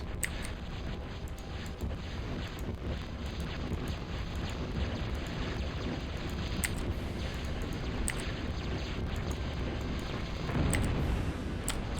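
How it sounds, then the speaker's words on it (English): A massive explosion in the strategy video game Total Annihilation, heard as a long, dense rumbling roar that stays loud and continuous, with sharp crackles scattered across it and a swell near the end. "That was a massive explosion."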